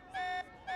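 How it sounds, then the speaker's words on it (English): In-game alarm from Xenoblade Chronicles 3: a bright, tonal siren-like blare with two short, steady pulses separated by a brief gap, fairly clear and alone. "This alarm's worrying."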